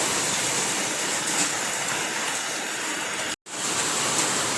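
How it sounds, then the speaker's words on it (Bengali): Dense, steady hiss of heavy precipitation pounding outside, a constant roar of hail and rain with one brief cut to silence near the end. "শিলাবৃষ্টি হচ্ছে বন্ধুরা, প্রচণ্ড মানে বরফ পড়ছে, আকাশ থেকে শিলা পড়ছে"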